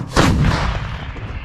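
One heavy Western artillery gun blast, loud and booming, followed by a rolling echo that fades over the next second.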